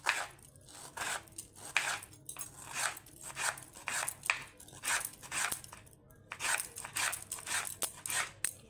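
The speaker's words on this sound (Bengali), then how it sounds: "আর কিছু আমি একদম পাতলা করে কেটে নেব" A knife slices paneer into thin pieces for paneer pakora: a series of crisp, close cutting strokes in uneven rhythm, with short pauses between groups of cuts and no talking.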